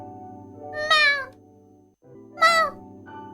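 A cat meows twice, about a second and a half apart, each call clear and fairly close over a steady low hum.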